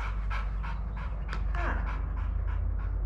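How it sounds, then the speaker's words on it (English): A six-year-old shelter dog at an animal sanctuary pants heavily with loud, rhythmic mouth breathing, close and steady for a few seconds with faint background noise. "if you're okay with a very loud mouth breather, he'll be a great dog for you"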